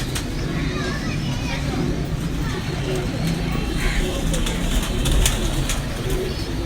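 Breeder pigeons in a loft, a father bird and his sons, coo softly and repeatedly beneath constant nearby conversation and a busy, noisy background.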